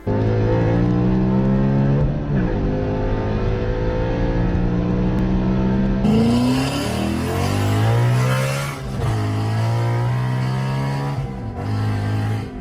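A Ford Mustang with a Coyote V8 engine revs hard and loud, climbing through the range in repeated sweeps with brief drops between pulls and a sustained high-rpm scream near the end.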